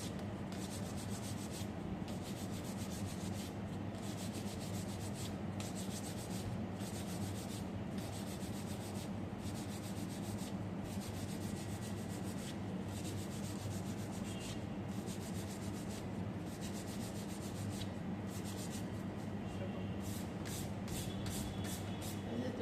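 Fondant on a wedding cake rubbed smooth along its edges with a smoother, a soft continuous rasping swish repeated in short strokes, quiet and close, with no talk over it.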